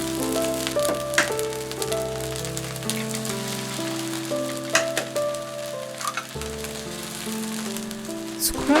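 Eggs and rice frying together in a hot pan for Cantonese fried rice give a steady, dense sizzle and crackle throughout, close and fairly loud, with faint background music.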